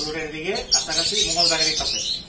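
Lovebirds at a bird farm in Jatrabari, Dhaka, chirp and twitter in quick, overlapping calls, close and moderately loud, mixed with a voice talking.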